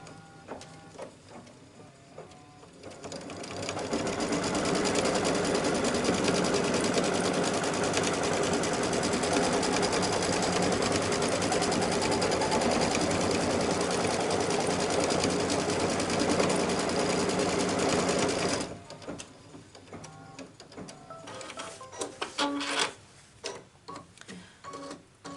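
An embroidery machine runs steadily on its first outline stitch for a T-shirt ruffle, a loud, even mechanical whirring with rapid stitching ticks that holds for about fifteen seconds before stopping, followed by quieter handling noises.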